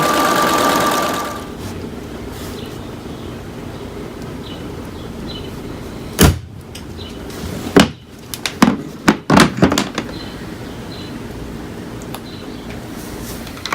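A sewing machine runs steadily as it stitches a buttonhole automatically through straight-fed fabric, its motor whirring close by, then ends in a few sharp clicks and knocks.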